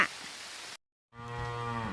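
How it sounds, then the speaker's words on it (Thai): A cow moos once, a deep and drawn-out call close by, following a stretch of steady rain noise during a storm with hail and a short silent gap. "ดูน้องวัวมาทักทายนะคะ"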